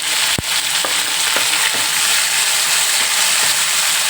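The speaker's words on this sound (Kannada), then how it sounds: "ನಾನು ಈ ಟೈಮಲ್ಲಿ ಈರುಳ್ಳಿ ಸೇರಿಸ್ಕೊತೀನಿ" Chopped onion and green chillies hit hot oil with spluttering mustard seeds, a loud close sizzle with a sharp clatter near the start and light stirring knocks after, no voices.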